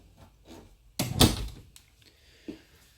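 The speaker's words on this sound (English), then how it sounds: "then you have some drawers that pull out" Pantry drawers in a Forest River Cottage RV sliding out: a sharp wooden thump and rattle as one drawer is pulled, followed by a fainter knock, with quiet gaps between.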